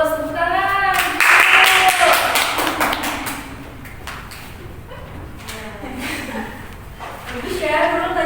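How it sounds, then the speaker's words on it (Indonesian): Students in a micro-teaching classroom clap their hands in a quick burst near the start, with a teacher's voice speaking over and after the claps. "Bagus, tepuk tangan."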